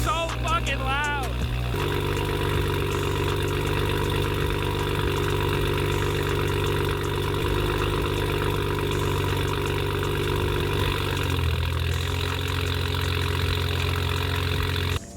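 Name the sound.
car engine idling loudly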